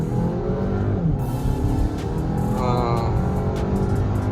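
A Stage 1 Fiat Punto Abarth and a Volkswagen Tiguan Allspace accelerate in a rolling drag race, engine roar building steadily under a brief spoken word.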